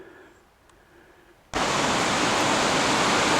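A creek rushing through a narrow rocky gorge at Seven Tubs Nature Area near Wilkes-Barre, Pennsylvania, cuts in suddenly after a quiet stretch and then roars loud and steady, a close, hissing wash of water.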